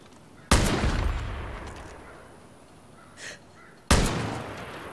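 Two sharp, loud gunshots about three seconds apart in the video game Far Cry New Dawn, fired at a helmet, each with a ringing tail and quiet between.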